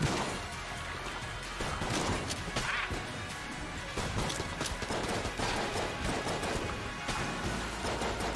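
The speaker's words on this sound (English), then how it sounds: "I got a poison Judge explosion shot, which combined with irradiated lead just made poison everywhere." In the game Enter the Gungeon, a Judge shotgun fires poison explosion shots, producing dense, overlapping bursts of gunfire and crashing blasts that continue steadily throughout, loud and busy.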